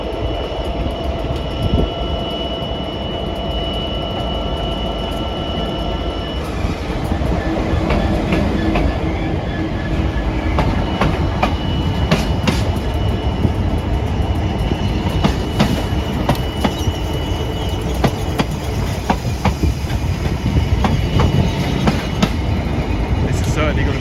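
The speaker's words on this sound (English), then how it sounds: "also arriving is 66515 from Leeds to Southampton" A Class 66 diesel locomotive, number 66515, arrives on a busy mainline at Acton, with a continuous rumble and rhythmic wheel clatter building slightly louder over time, some brief squeals and occasional voices nearby.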